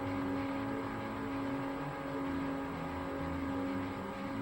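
A race car in a Forza racing game accelerating away, a continuous loud engine drone with a steady whirring tone and no pauses.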